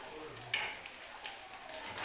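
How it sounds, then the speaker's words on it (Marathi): Onions frying in a pan for potato bhaji served with puri, a quiet, steady sizzle with a brief clink of a utensil against the pan. "कांदा आपला भाजतोय"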